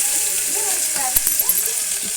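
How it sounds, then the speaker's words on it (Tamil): Chopped onions frying in a pan for biryani, a steady bright sizzle with occasional soft stirring clicks and scrapes, close and even, a voice faintly present underneath. "நம்ம கட் பண்ணி வச்சுருக்க வெங்காயத்தை நல்லா பொன்னிறமாக வரப்பட்டிக்கும்"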